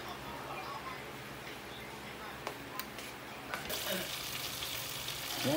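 Homemade chicken inasal frying in a pan gives a steady low sizzle, with a few faint clicks and a brighter spattering rise near the end.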